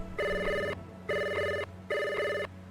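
A telephone rings three times in an even rhythm during a Blade Runner tabletop roleplaying session, each electronic trill clear and steady with brief silences between, fairly quiet and close.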